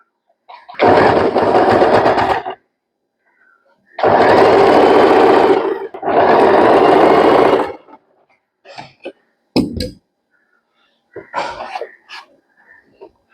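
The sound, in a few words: sewing machine sewing a zigzag stitch with a presser foot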